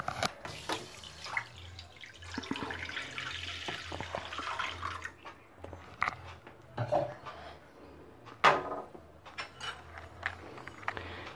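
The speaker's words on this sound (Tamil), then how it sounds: "இப்போது இதில் நான் 1/2 லிட்டர் பால் விட்டுக்கிறேன்." Half a litre of milk poured into a pan for semiya ice candy, a soft liquid splashing stream with drips and light clinks, quiet and close, no talking.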